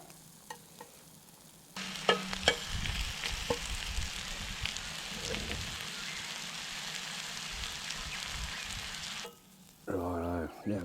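An egg fries in a pan over a campfire, a steady soft sizzle and crackle that starts abruptly and runs on for several seconds with a few clinks and knocks before cutting off, then a brief voice.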